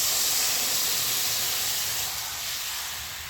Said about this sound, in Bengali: এবার যে আমি তেঁতুলটা ভিজিয়ে রেখেছিলাম সেই জলটা